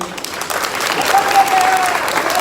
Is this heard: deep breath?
no